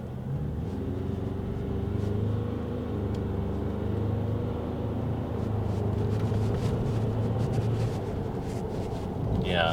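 Ford Ranger pickup with a 2-litre engine pulling away in sport mode, a steady low engine drone and road rumble rising gently throughout with wind noise, heard from inside the cab.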